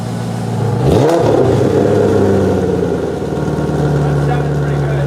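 V8-swapped BMW E30 engine revving up from idle with a rising then settling roar, loud and close, with a steady engine hum continuing underneath.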